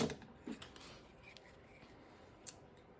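Decorative edge scissors snip through paper in a few quiet, brief cuts, close by in a calm craft space.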